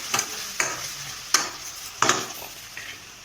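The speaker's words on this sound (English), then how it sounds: "Make sure you stir it well." Ketchup being stirred into honey chilli potatoes in a pan, a close sequence of four or five sharp scraping clacks of a spoon against the pan over a soft sizzle, with no one speaking.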